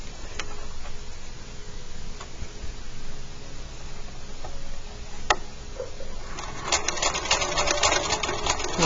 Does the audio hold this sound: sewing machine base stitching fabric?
yes